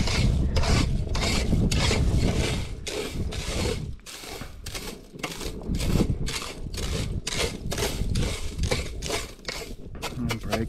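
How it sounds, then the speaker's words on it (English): Eggshells are crushed into small chunks by hand, a dense run of crunching and grinding rasps in quick irregular bursts, loud and close. "Breaking them up a bit gets small chunks, so it's easier for it to mix with the vinegar later"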